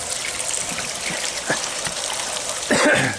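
Water trickles and gushes through a perforated pipe in a backyard aquaponics system, a close, continuous splashing flow that swells briefly louder near the end.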